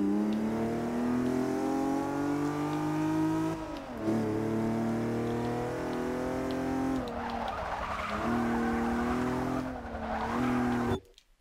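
BMW car in the Forza Motorsport 6 racing game accelerating hard, engine droning and rising through gear changes with tire squeal and skidding, loud and continuous without talk.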